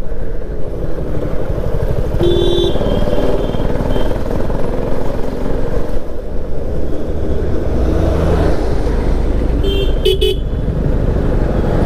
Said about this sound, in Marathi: सुसाट ट्रॅफिक आहे यार.